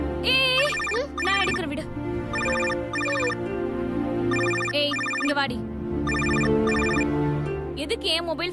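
A mobile phone ringtone plays loudly and continuously in repeated melodic bursts, close by, with brief speech and background music in places.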